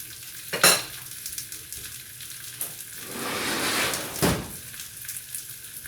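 Liver sizzling in a hot pan for liver and onions, a steady close crackle with stirring scrapes and a couple of louder utensil knocks.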